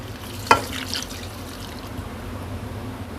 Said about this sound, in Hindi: और 1 कप पानी।